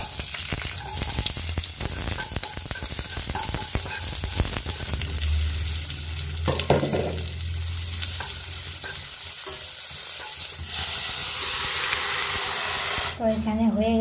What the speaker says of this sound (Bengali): জাস্ট রসুন দিয়ে একটু নাড়বো, পেঁয়াজ দিয়ে একটু নাড়বো